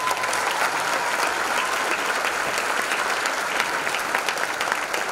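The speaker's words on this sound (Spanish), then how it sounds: "Así que quiero un fuerte aplauso para la gente de la vecinal." Loud, dense applause from the audience at a dance show anniversary event, continuous clapping from a large crowd without pause.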